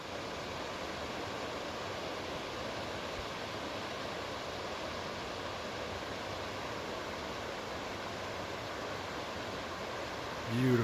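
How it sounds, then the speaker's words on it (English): A waterfall in Cascade Canyon, Grand Teton, pours as a steady, dense broadband roar that holds at an even level throughout, with a brief louder swell at the very end. "Wow, look at the waterfall."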